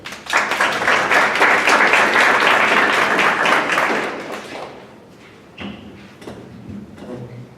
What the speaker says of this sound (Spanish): para quien pido por favor un fuerte aplauso